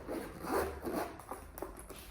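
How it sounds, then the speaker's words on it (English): The zip-around closure on a Coach Riley lunchbox bag is pulled open, giving a close, quiet run of zipper rasps in short strokes. "another front compartment with a zip around closure"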